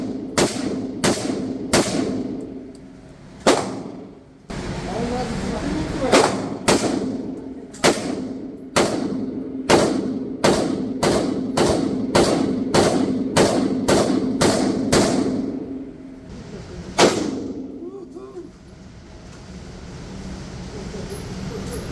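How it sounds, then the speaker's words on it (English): AR-15 short-barrel rifle firing .223 or 5.56 rounds outdoors: about twenty sharp, loud cracks in irregular bursts and single shots, each followed by a brief echo, with no talking. "AR-15 short barrel rifle."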